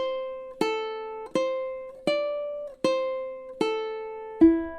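Ukulele melody picked note by note, six clear plucked notes at a steady moderate pace, each ringing briefly before the next, played alone with no talking, ending on a lower held note.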